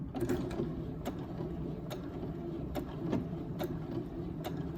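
A sewing machine driven by a foot pedal, stitching forward and then backward to lock the seam, a quiet rapid mechanical ticking and whirring with regular clicks about twice per second, close and steady without talk.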